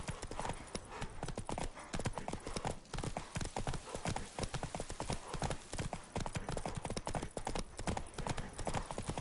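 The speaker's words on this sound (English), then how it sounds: "Don't spare the horse." A horse in the video game The Witcher 3 gallops hard and continuously, thudding hooves in a fast, even rhythm that stays loud and close for the whole stretch.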